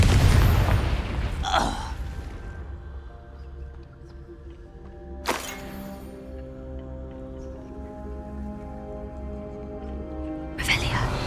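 Confringo fire spell in Hogwarts Legacy, three sharp blasts: one at the start, one midway and one near the end, each followed by a lingering ringing tail.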